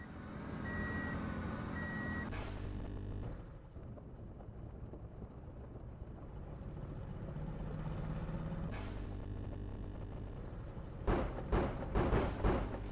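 A truck reversing in the video game Ship Graveyard Simulator 3, beeping steadily in short tones over a low engine drone, with a hiss of air brakes and some clanking toward the end.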